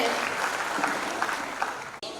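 An audience at a Brahma Kumaris spiritual program in Amravati applauds to welcome a guest, steady moderate clapping from a hall full of people, with a sharp break near the end.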